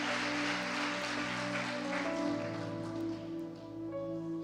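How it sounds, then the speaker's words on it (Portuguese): A church congregation applauds, a broad steady wash of clapping that runs throughout and thins slightly toward the end, with a sustained tonal hum from the sound system beneath it. "Dê um aplauso para esse bonitão aqui."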